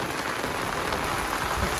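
A heavy downpour falls in a sudden storm, a constant close wash of raindrops drumming on surfaces that holds steady throughout without any talking.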